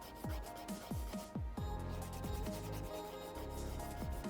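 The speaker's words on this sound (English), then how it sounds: "So I'm gonna give these a good file." A 240 grit nail file is rubbed over builder gel on fingernails, giving a close, steady scraping hiss with short strokes repeating in a loose rhythm and no talking.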